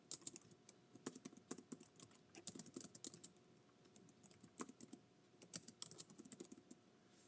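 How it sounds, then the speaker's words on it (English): Rapid, uneven clatter of keys on a computer keyboard, with bursts and short pauses, close up and fairly quiet, no voices. "Oh, excuse my typing again."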